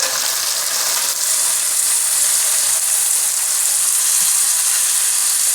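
Cauliflower frying in a pan with already-browned potatoes and chicken, giving a steady, close hiss and sizzle that runs unbroken with no talking.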